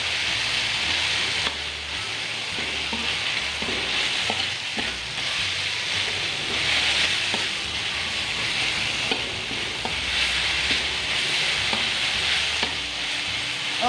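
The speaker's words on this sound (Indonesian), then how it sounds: "Nah, ini kita tumis sampai harum." Spices sizzle and fry steadily in a hot pan with lime leaves for a yellow-spiced milkfish dish, with a continuous loud crackle and occasional scraping stirs throughout.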